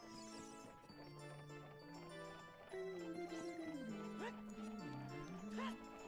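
A melody plays on the ocarina in Zelda: Ocarina of Time, with steady sustained notes and sliding pitch bends, continuous and moderately loud.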